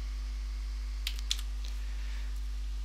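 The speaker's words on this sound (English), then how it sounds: "I might type hello without the L" A few quick keystrokes on a computer keyboard while entering a word into Word 2013, two crisp clicks close together, then faint scattered taps over a quiet, humming background.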